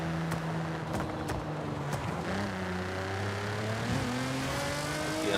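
A Nissan GT-R Nismo engine in Forza Horizon 5 revs steadily upward, its droning harmonics climbing in pitch as the RPMs rise, loud and continuous with light road and tire noise.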